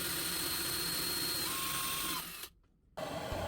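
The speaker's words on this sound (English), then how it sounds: "I drilled 2 holes to be able to hang the pendant." A small drill boring holes through a metal enamel pendant, a steady high whine running continuously, then a brief drop as the bit stops and restarts.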